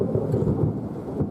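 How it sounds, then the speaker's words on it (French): Steady heavy rain with a rolling rumble of thunder in a storm, dense and continuous outdoors. "il pleut là"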